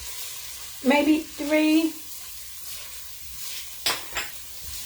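Chopped onion and finely cut celery sizzle softly in a pot for clam chowder, a low steady hiss beneath a woman's brief speech, with a couple of light clinks of a utensil near the end.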